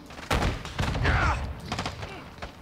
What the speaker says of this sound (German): wir müssen die ganze Zeit schießen